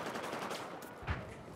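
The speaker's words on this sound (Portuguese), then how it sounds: "onde tá vindo esse tiro?" Gunfire in the video game Battlefield 4, a dense, steady wash of rapid shots with one heavier, louder blast near the end, heard without talk.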